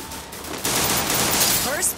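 Rapid close-range gunfire from a Free Fire Clash Squad ranked match, starting after a quiet moment and continuing as a loud, sustained burst of shots for the rest of the clip.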